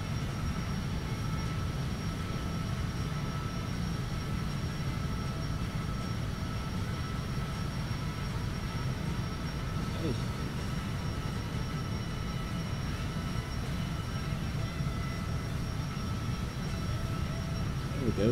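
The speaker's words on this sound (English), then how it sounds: "See if we can stay on the runway just enough to take off" An airplane taking off from a runway with no flaps, heard as a steady, loud engine roar and rumbling that holds constant throughout, with a voice speaking briefly over it.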